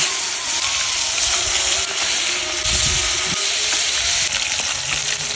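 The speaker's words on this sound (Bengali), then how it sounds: "মাছ ভাজিয়ে নেব" Salted, turmeric-rubbed sea fish frying in hot oil in a wok, a loud, steady crackling sizzle with hiss and a few bursts of spattering throughout.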